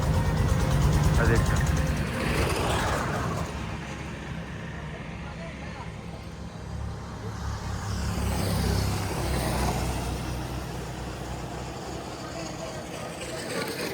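Steady traffic on a main highway in Bagerhat, Bangladesh, a continuous roadside rumble with passing vehicles swelling and fading, heard nearby while someone talks over it.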